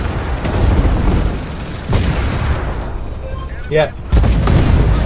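A tank cannon fires at a Leopard 2 in a team tank-combat video game, giving deep, loud booms with rumbling low-end decay, heard alongside players talking over voice chat.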